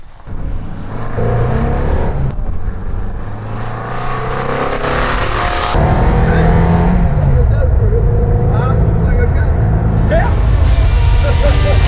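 A customer's classic car engine drones steadily from inside the cabin, rising and shifting as it accelerates through gears, while people talk over the engine noise.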